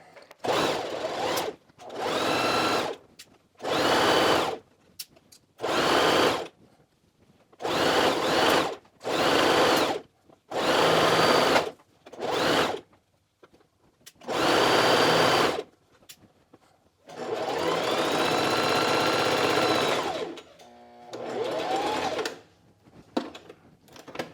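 A sewing machine stitches a pants hem in repeated bursts of fast whirring, short runs separated by pauses and one longer stretch near the end, loud and close with no talk.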